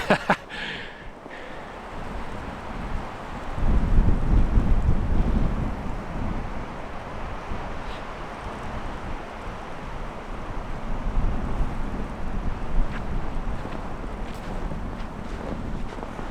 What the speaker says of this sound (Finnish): suoraan järveltä puhaltaa, niin menee suoraan luitten läpi toi tuuli